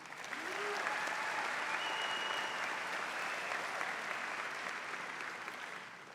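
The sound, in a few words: graduation audience applauding military enlistees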